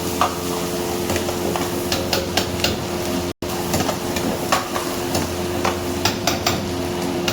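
Onions being tossed and frying in a pan while a gravy is finished, a continuous sizzle with intermittent clinks and scraping stirs, one very brief dropout midway, no voices.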